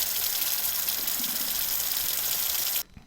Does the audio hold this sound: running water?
yes